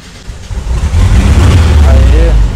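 A buggy with a VW 1300 engine and no fuel injection starts up and revs, its low, loud, close rumble swelling and holding after a brief quieter opening, with people talking over it.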